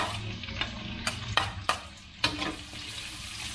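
Half an onion sautés in a pan for palabok sauce, with a continuous soft sizzle under several sharp utensil scrapes and stirring knocks, close by and with no one speaking.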